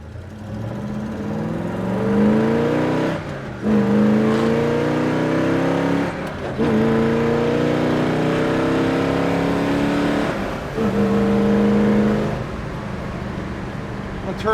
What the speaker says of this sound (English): Car has good pickup, easy to shift through the gears, good response in the throttle